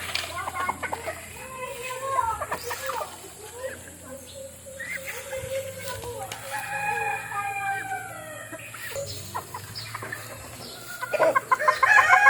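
Backyard hens and a tethered stag clucking and calling while being fed, a small flock heard near and far, with someone talking over the birds.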